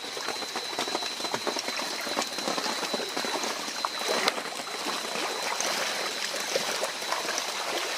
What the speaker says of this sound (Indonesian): Masih hujan terus nih ya.